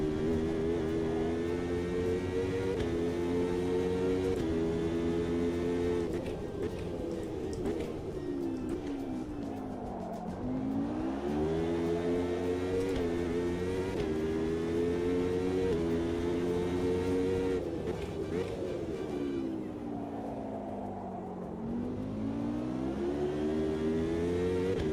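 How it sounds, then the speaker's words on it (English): A racing car's engine in the sim game Automobilista 2 hums steadily for the whole stretch, pitch rising through each gear and dipping at shifts, with a droning, oddly tonal character and no talk over it. "This car has weird sound."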